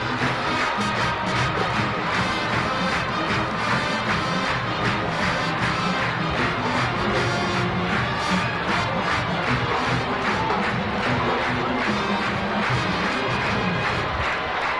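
A packed high school football stadium crowd at Massillon versus Akron Firestone rises and claps in steady rhythm to the fight song, a dense, continuous wash of many hands and voices filling the stands without pause.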